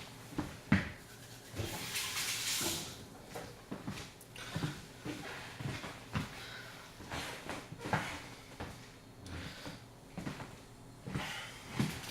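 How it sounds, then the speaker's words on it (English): Tap water runs and splashes as hands are washed at a kitchen sink, a soft, steady flow with uneven splashing and a few brief clatters nearby. "Just gonna wash my hands."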